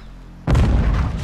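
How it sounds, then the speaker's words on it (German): A grenade explodes in Call of Duty: Modern Warfare 2, a sudden loud boom after brief near-silence, followed by a rumbling blast tail. "Granate!"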